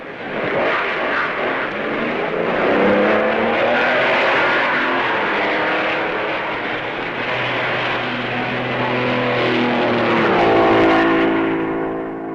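A 1955 Maserati Formula One car pulling away from the pits during the Belgian Grand Prix, its engine note a loud, sustained racing drone with shifting pitch that rises toward the end.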